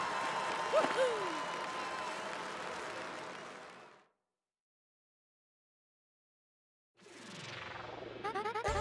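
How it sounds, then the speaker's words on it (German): Crowd applause from the Paper Mario: The Thousand-Year Door arena, cheering Bomba Luigi after a league match; a dense burst of clapping runs about four seconds with a quick sliding game tone early on, then silence before another brief game sound. "Applaus für Bomba Luigi."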